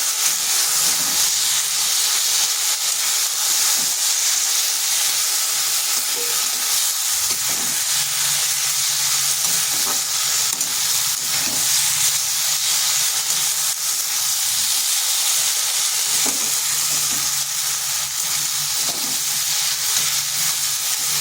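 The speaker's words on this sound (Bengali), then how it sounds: "এইভাবে বেশ কিছুক্ষণ কষিয়ে নিতে হবে।" Spice masala with taro and small mourala fish sautés in a pan after a splash of water, giving a loud, steady sizzling hiss that holds throughout with faint stirring scrapes.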